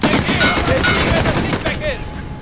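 Rapid bursts of machine gun fire rattle loudly and continuously in a dense, noisy Call of Duty: Modern Warfare game mix, with a voice faintly audible underneath.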